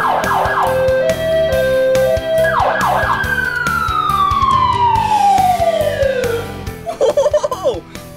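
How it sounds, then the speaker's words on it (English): A fire truck siren wails loud and close, opening with two fast rising yelp bursts and then a long falling wail that winds down, ending in a few choppy honks. "Check this out down here. The siren. Listen."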